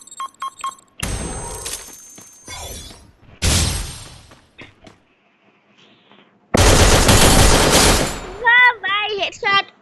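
Automatic gunfire in a shooting video game, several loud sustained bursts separated by gaps, with scattered shorter clicks and game effects and a voice speaking near the end.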